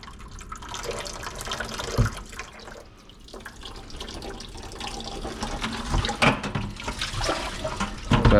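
Water runs steadily from a house water line through a valve, a continuous splashing rush with a few louder gushes and knocks, close by.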